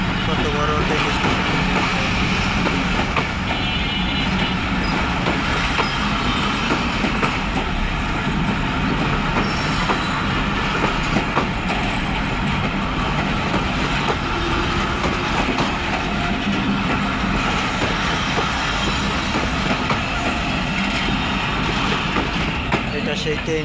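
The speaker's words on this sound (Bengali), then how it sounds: "এটা সেই ট্রেন চলে গেল, এখন থামবে সেই ট্রেনটা" A train rolls through Bheramara railway station in Kushtia, its steady rumble and clickety-clack of wheels on rails sounding loud and close throughout, with people talking faintly underneath.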